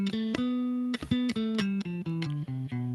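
Bass guitar playing a B Locrian mode scale, distinct plucked notes in a steady descending run over three seconds, clean and close with no voices.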